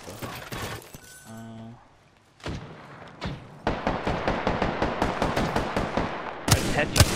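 Gunfire in Apex Legends: a rapid run of automatic shots fired in an even rhythm, loud and close, after earlier scattered shots, a glassy shattering effect and a thud, with a few words spoken.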